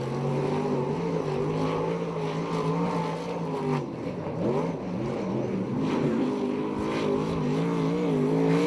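A USAC/CRA sprint car roars around the track on a timed qualifying lap, its engine a loud continuous snarl with rising and falling pitch as it revs through the turns, sustained throughout.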